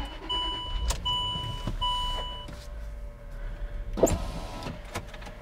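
A Land Rover Discovery 3 is switched on with a foot on the brake, giving electronic chimes and beeps, a faint motor whir and a sharp click near the end, all close and moderately quiet.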